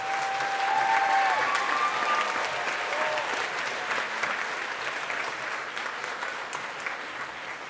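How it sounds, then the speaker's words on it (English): Sustained applause from a large concert audience, steady and loud throughout, with a brief tone audible near the start. "give those great teachers a round of applause"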